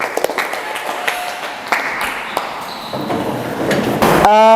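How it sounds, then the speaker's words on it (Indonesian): A class of pupils claps together in a lesson, loud irregular clapping with sharp individual slaps and a bright ringing tone near the end. "tepuk tangan untuk kita semua"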